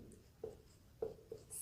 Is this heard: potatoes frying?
no